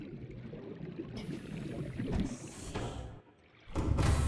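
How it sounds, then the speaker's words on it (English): Underwater engine hum of the Seamoth submarine in Subnautica, a steady watery rumble with bubbling swashes, briefly dropping away before surging back louder. "Even left the engine running on this thing this time."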